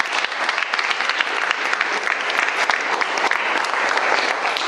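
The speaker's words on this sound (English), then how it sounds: "So a round of applause." Wedding guests at a UK reception clap steadily during the best man's speech, a dense, sustained round of applause from a full room that holds at an even, fairly loud level throughout with no voices standing out.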